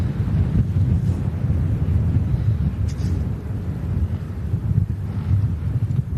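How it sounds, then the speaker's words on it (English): Strong, gusty wind buffets the microphone outdoors at a plane-spotting spot, producing a continuous loud low rumble that swells and eases over several seconds with no speech. "Mad how windy it is."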